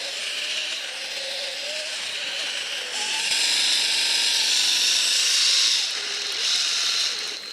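A Duratech cordless polisher runs with compound on its pad, a close, steady high motor whine that shifts pitch as the speed setting changes.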